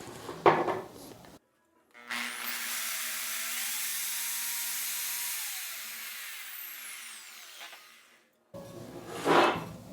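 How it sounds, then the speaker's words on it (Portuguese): A drill bores into the center of a wooden tripod floor lamp base, a steady whirring grind lasting several seconds, set between brief bursts of handling noise before and after. "Vamos furar essa parte central"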